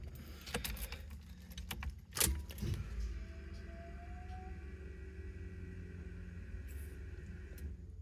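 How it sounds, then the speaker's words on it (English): An electric fuel pump hums on a 1987 El Camino with an LS swap and Terminator X, giving a faint steady drone after a few clicks and clatters of handling, with no voices. "Fuel pump sounds halfway decent, I guess."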